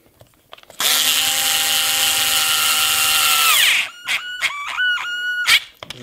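A power driver tightens a part on an RC 8x8 model car: a loud, sustained motor whine lasts about three seconds, then cuts into a series of short squealing bursts as the screw seats.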